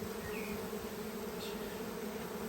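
A collected bee swarm buzzes in a close, steady, continuous drone, with no voices present.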